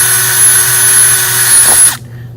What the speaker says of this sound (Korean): 이 드릴로 먼저 설치를 하고 나서 구멍을 뚫어주시는 게 좀 더 효과적으로 할 수가 있습니다